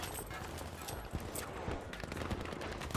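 In Battlefield 5, a machine gun fires a rapid, unbroken stream of crackling shots at moderate distance. The dense rattle stays fairly faint and continuous for the whole stretch, with no talking over it.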